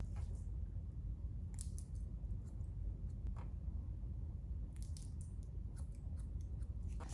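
Scissors snip through hair during a 90-degree uniform layered haircut, several quiet crisp cuts scattered over a low steady background hum, close and without talk.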